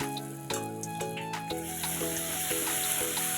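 Ground spice paste, freshly crushed on a grinding stone, hits a hot pan for a jackfruit curry and sizzles steadily throughout, a continuous close frying hiss over soft background music.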